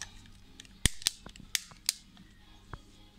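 A toy pistol clicks and snaps several times in quick, irregular succession, sharp and fairly close, in a quiet room with a faint background murmur.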